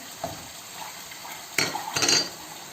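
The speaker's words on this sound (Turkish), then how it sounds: "Şöyle karıştırıyoruz." A spoon stirs a parsley and red pepper mixture in a hot pan, with soft scraping and a light sizzle, and then a couple of louder clinks and scrapes near the end.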